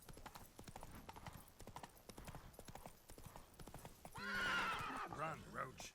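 Roach, Geralt's horse in Witcher 3: Wild Hunt (Blood and Wine), gallops in a steady, fast clip-clop of hooves, then gives a loud whinny near the end. Someone talks over the hoofbeats.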